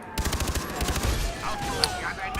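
Rapid bursts of Far Cry 3 co-op gunfire crackle through the clip, a quick rhythmic volley followed by scattered shots and effects, with a voice faintly underneath.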